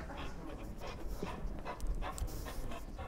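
A pet therapy dog pants softly with faint whimpers during training, the sound low and continuous against a quiet background.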